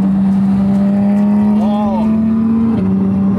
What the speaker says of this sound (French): Mais le bruit d'une GT3 RS mec quand la vitesse elle passe là, comment ça claque là.